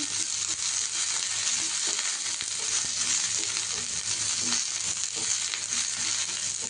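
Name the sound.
chillies frying in a pan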